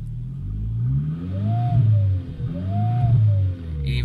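Audi TT 8N with the 1.8T engine and a seizing, failed turbo runs at a loud, close rumble, with two rising-and-falling whistling whines swelling over the engine note as it is revved.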